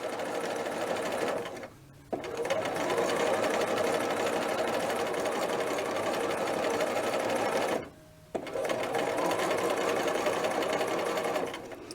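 A sewing machine stitches a collar onto a McCall's 8031 dress, running in a steady fast whirring hum at close range. The hum stops briefly twice before resuming.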